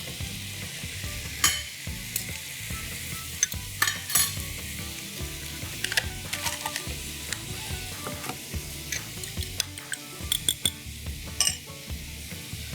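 Eggs cooking in margarine in a pan, a steady sizzle and crackle with scattered clinks and scrapes of a utensil against the pan, fairly close and with no talking.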